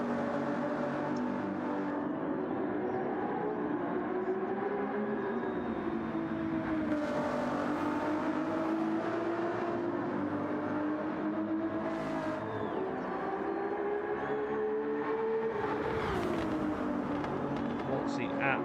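A Ferrari GT race car in Gran Turismo 7 laps Spa-Francorchamps during a 12-hour endurance event, its engine droning steadily with rising and falling pitch through gear changes, continuous and fairly loud throughout.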